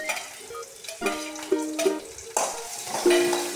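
Green chili, ginger and garlic dropped into hot oil for apple pickle, with a steady sizzle and fry under repeated metal spoon stirs and scrapes against the pan, several sharp clinks standing out near and clear.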